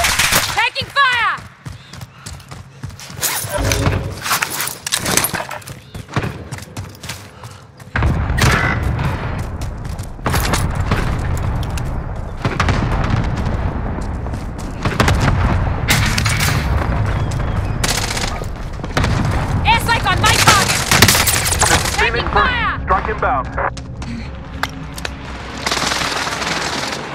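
Call of Duty gunfire on Rebirth Island: bursts of rapid machine-gun fire and single loud shots break out again and again, some close and some farther off, with voices talking in between.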